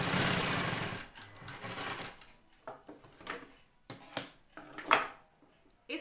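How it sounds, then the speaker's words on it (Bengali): A sewing machine stitches the long sides of a homemade fabric face mask, running in a dense whirring burst up front, then breaking into short, separate stitching runs and clicks, close and fairly loud, with no talking. "লম্বা দুটো সাইড সেলাই করব।"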